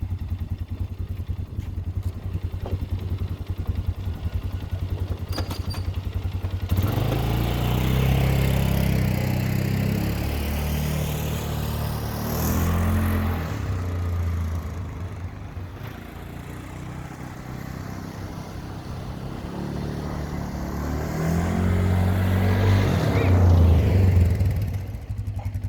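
A rebuilt 2004 Polaris Sportsman 500 ATV engine runs and drives past, its loud rumbling clatter rising and falling with revs and swelling strongly near the end, with no voices.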